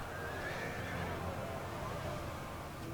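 Horse neighs from Galatian noble cavalry in the Ancient Empires mod for a Total War battle, rising over a constant battle din with faint hoofbeats beneath, while someone talks throughout.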